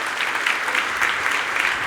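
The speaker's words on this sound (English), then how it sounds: "Please give a round of applause for Mohsen." Steady applause from a keynote audience at a Google Cloud Summit in London, a continuous dense wash of clapping throughout.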